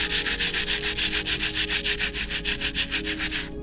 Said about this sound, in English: Now I am hoping that we can remove this with a little bit of sanding paper.